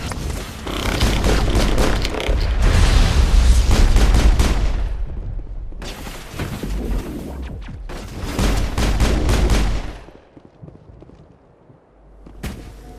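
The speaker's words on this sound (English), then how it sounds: "Manovai is under coordinated crossfire." Heavy crossfire in Mass Effect, dense loud volleys of gunshots and blasts in long bursts that cut out near the end, followed by one short final burst.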